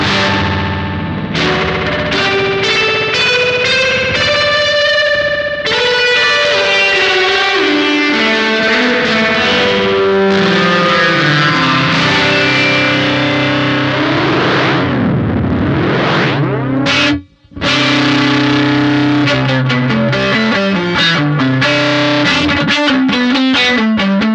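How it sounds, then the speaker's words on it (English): Electric guitar runs through a delay effect whose dense, closely spaced repeats create a sweeping, metallic comb-filtered tone, with one brief dropout near the end. "So with short delay times, we get more of that comb filtering sound."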